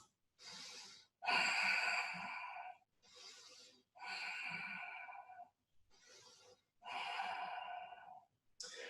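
Deep ujjayi breaths pass through a slightly constricted throat, each long inhale and exhale a hoarse, hissing rush, alternating steadily with brief pauses, close and fairly loud.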